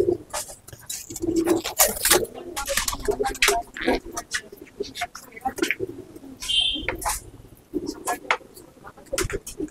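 A pair of pigeons coo in a small loft, soft throaty calls scattered among loud bursts of someone talking and some clattering movement nearby.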